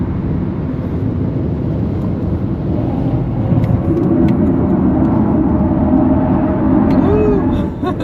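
A Cupra Born rear-wheel-drive electric car driving on the Nürburgring, a steady loud whirring drive and road roar with a rising tone toward the end and no talk.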